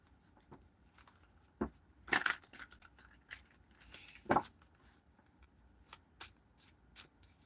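Tarot cards are shuffled during a reading: quiet, sparse riffles and flicks with a few sharper snaps, close by in a hushed room.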